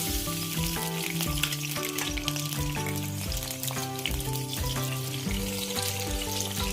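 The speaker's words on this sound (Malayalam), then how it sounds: "ചൂടായ പാത്രത്തിലേക്ക് നമ്മൾ നേരത്തെ എടുത്തു വെച്ചിരിക്കുന്ന സൺഫ്ലവർ ഓയിൽ ഒഴിച്ചു കൊടുക്കാം ശേഷം കഴുകി വെച്ചിരിക്കുന്ന കശുവണ്ടി നമുക്ക് ആഡ് ചെയ്ത് കൊടുക്കാം" Washed cashews fry in sunflower oil in a hot pan for beef biryani, a constant bright sizzle with a steady musical tone running underneath throughout.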